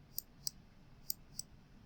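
Four light, crisp computer mouse clicks land at uneven intervals, quiet and close over a low steady hum.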